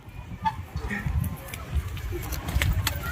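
Pigeons coo softly at an outdoor pigeon sale in Diamond Harbour, their low calls repeating against a murmur of background noise.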